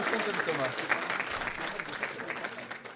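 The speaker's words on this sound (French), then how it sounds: "Un applaudissement pour eux." Audience clapping steadily at the PortraitFr Awards 2025 ceremony, a dense, even wash of applause with a voice talking over it.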